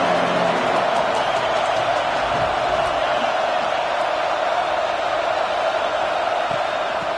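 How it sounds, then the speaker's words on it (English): A home football crowd fired up in the stadium just after kickoff, a continuous loud roar of cheering voices with scattered whoops filling the clip. "this home crowd is fired up and ready to make a difference today"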